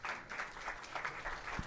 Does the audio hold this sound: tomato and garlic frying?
no